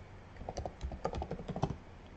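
Someone types a search on a computer keyboard in a quick, irregular run of soft clicking keystrokes. The typing is faint and close, with no talking.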